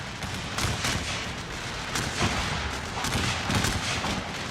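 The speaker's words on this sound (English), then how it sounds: "Getting some canister shots." Artillery fires canister shot in a video game battle set at Ball's Bluff, with several heavy booming blasts at irregular intervals over a constant background of battle noise.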